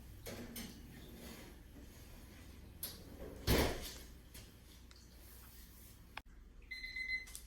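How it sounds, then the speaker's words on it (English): An electronic kitchen oven timer beeps in a home kitchen where monkey bread is baking, a short tonal beep near the end that follows scattered clatter and a loud thump, with no talking. "timer is beeping"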